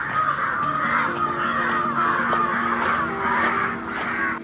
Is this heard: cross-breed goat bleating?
no